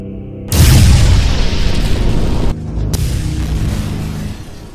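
A cannon's blast erupts with a sudden, massive low boom, then rumbles on loudly in a long roaring tail that dips briefly before swelling again.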